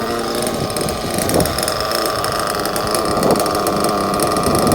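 A nitro engine in an RC truggy runs at high rpm with a buzzing, steady rasp and slight swells as it is revved, loud and close with no voices.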